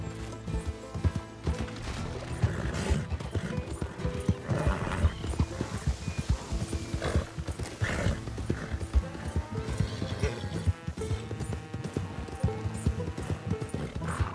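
Horses racing with mules in tow in Red Dead Redemption 2, busy overlapping clip-clop of hooves with occasional whinnies and neighs, steady and close over the course of the race.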